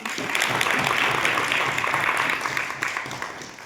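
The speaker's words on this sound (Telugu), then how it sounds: "a good clap for everyone" An audience at a business networking event applauds a winner, giving a dense, steady wash of clapping that fills the clip and tapers slightly at the end.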